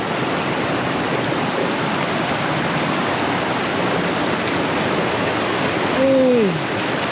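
Steady broadband rush of the Carrabassett River flowing in Maine, a continuous close wash of moving water, with a brief rising-and-falling tonal sound near the end.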